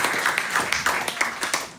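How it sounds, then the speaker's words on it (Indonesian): A church congregation at a Sunday worship service claps, a soft, fairly sparse patter of hands with a few distinct, sharper claps standing out in a reverberant hall. "Geef applaus"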